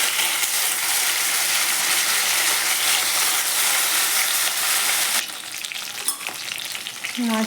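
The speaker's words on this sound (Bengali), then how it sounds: "তেল গরম হয়ে গেছে, মাছটা একটু ভেজে নিচ্ছি" Fish dusted with salt and turmeric fries in hot oil, giving a loud, dense sizzle that crackles continuously, with a few sharper spits and a scrape near the end.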